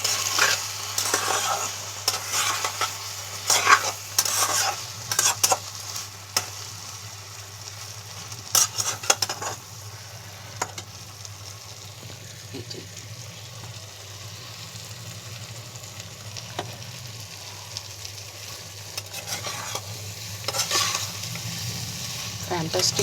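Spice paste of green chilli, ginger, garlic, turmeric and mustard oil fries in a wok, with a low steady sizzle and intermittent scraping and stirring clatter throughout.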